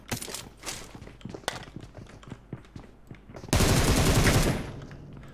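Gunfire in PUBG Mobile: scattered single shots and short bursts at moderate distance, then a loud close automatic burst of about a second before trailing off.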